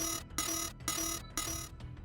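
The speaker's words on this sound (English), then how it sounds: "soon the warning bells started ringing" Cockpit warning bells ring on an airliner in four evenly spaced, loud, bright metallic bursts with short gaps between them, and no voices are heard.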